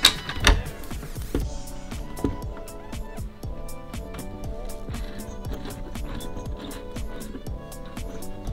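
A screw and spacer are fitted on a 2019 Subaru Crosstrek during a ditch light install, giving close, repetitive mechanical ticking and whirring like a ratcheting or powered driver running steadily after a sharp initial clunk.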